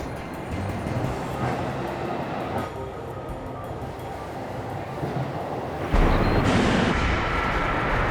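A train moves through a station platform in Japan, a continuous heavy rumble and rattle of rail cars that swells louder toward the end, close by with no talking.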